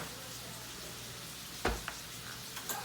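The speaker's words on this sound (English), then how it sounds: "Steak's cooking pretty well now." Steak sizzles steadily while cooking in a pan for a cheese steak sandwich, a soft continuous frying hiss with a couple of brief sharper pops and scrapes near the end.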